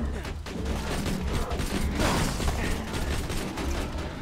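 Rapid automatic gunfire from a deployed turret in Borderlands 2, a dense rattling burst that swells and continues for several seconds amid game noise.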